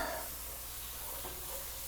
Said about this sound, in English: So as you can see, the pot of onions is now down to the bare nubbins. It's turned caramely colored, and I am stirring constantly